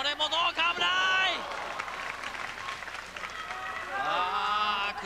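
A crowd roars and claps at a Japanese wrestling match, Masato Tanaka against Tetsuhiro Kuroda, with excited voices and shouts rising and falling through a steady wash of arena noise.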